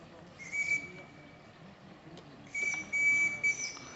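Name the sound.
steam whistle on model tugboat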